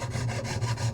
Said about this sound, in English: I love working with a good saw